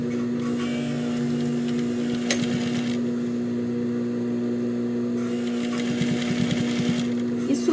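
A sewing machine stitches a seam along bias binding on a half-moon fabric cosmetic pouch, a steady mechanical whirring hum running throughout with slight rhythmic variation and no talking.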